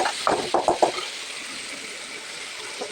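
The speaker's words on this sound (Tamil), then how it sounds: "ஒரே ஒரு தக்காளி சுற்றி நல்லா வணக்கி விடலாம்" Onion, curry leaves and tomato sautéing in a pan, a soft steady sizzle with a few stirring scrapes and clinks early on, fairly close and alone without talk.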